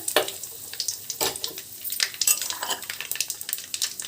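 Onion and garlic fry in a pan of oil already seasoned with cumin, mustard seeds, fenugreek, dried chillies and curry leaves for grated mango pachadi; a close sizzle runs beneath repeated scraping and clinking of a metal spatula against the pan.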